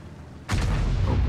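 An HE shell round from an unseen enemy slams into a Jagdpanzer E100 tank destroyer in World of Tanks: one sudden loud boom that keeps rumbling in a sustained low roar.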